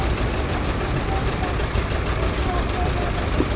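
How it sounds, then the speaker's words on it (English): A diesel Ferguson TED Fergie tractor with a Ferguson hammer mill hitched behind runs at a steady, loud, low rumble throughout, with a voice talking over it. "Diesel PED Fergie, with the Ferguson hammer mill on behind."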